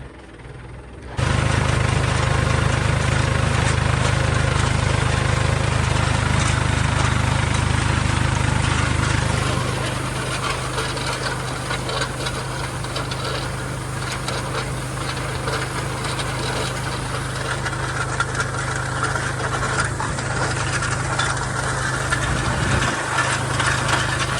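A tractor engine idles loudly and steadily up close during a groundnut harvest, its low rumble dropping slightly partway through, with faint scraping and rubbing noises on top.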